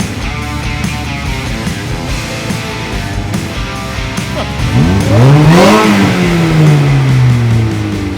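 A DF Goblin sports car revs hard at a Dallas car meet, its engine climbing sharply to a loud high-pitched peak and then falling back, heard up close over a steady background rumble with no talk.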